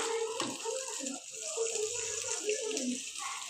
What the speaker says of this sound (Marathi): पाणी ॲड करायचं.